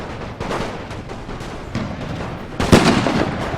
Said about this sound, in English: Our artillery is still doing a tremendous job